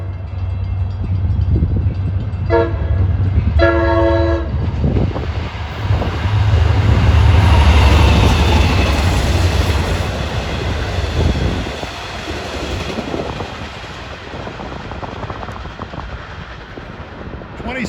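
An eastbound commuter train bound for Patchogue passes New Hyde Park station: a few loud horn blasts open, then a heavy rumbling roar of the cars going by that slowly fades.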